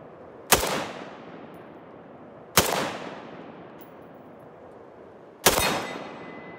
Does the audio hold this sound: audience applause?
no